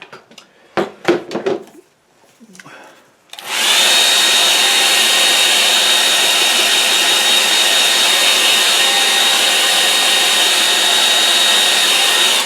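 Hair dryer blowing on watercolour paint, a steady loud whooshing roar that switches on abruptly after a few brief clatters and then runs continuously.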